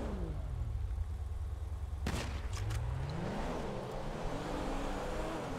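Car engine in a GTA 5 roleplay street race, a steady low drone that rises and falls as the car drives, with a sharp burst of impact or gunshot-like cracks near the middle, fairly faint overall.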